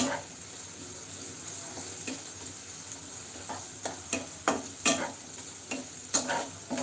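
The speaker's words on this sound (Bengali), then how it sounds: "প্রথমে পেঁয়াজ কুচি হালকা ভেজে নিব" Chopped onions fry lightly in a pan with a steady soft sizzle, punctuated by the scrape and clatter of a stirring utensil that grows more frequent toward the end.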